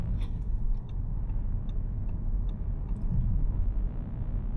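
A 2025 Audi A5L four-door coupe with a 7-speed S-Tronic dual-clutch transmission cruises through heavy Monday-morning traffic in China, giving a steady low cabin rumble with faint clicks and no talking.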